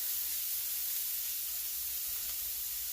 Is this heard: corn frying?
yes